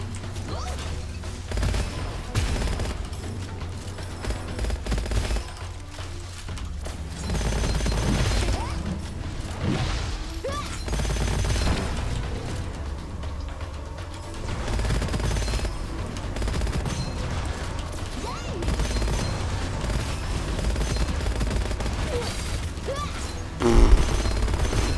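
Gunfire in the Gunfire Reborn video game crackles in dense, repeated bursts of rapid shots with mechanical clatter, loud and continuous over a thick game soundtrack, with occasional voices talking.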